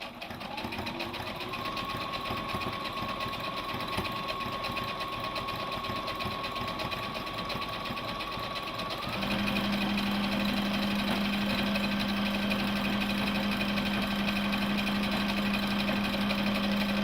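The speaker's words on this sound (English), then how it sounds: "There's a back stitch too. This is back stitch." A Brother PB6800 combo sewing machine hums continuously while running a back stitch. Partway through, the motor pitch drops and settles into a louder, deeper drone that holds steady to the end.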